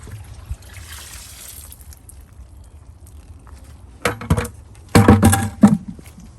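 Stored water is poured out for watering garden plant boxes of calamansi and string beans, heard as a few short, splashy bursts of pouring close by after a quiet stretch.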